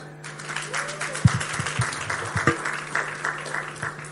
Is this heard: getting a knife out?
no